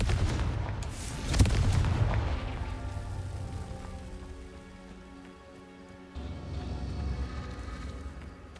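Fire-blast spell cast in the video game Hogwarts Legacy, heard as a sharp booming burst followed by a long, rumbling decay and a second, softer swell of crackling noise.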